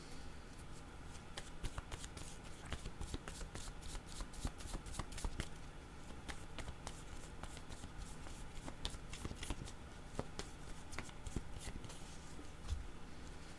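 Oracle picture cards are shuffled and drawn from a deck, a continuous run of quick riffling flicks and soft card slaps, close and fairly quiet, with no talking.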